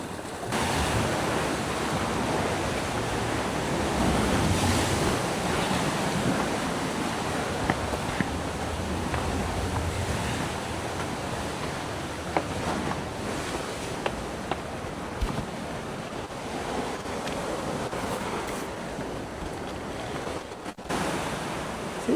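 Sea waves and gusting wind along the Valletta coast in Malta make a steady, loud roar of surf with wind buffeting the microphone, and a few faint knocks come through now and then.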